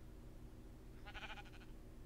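A sheep in Minecraft gives one short, faint bleat partway through, set against a steady low background hum with no voices.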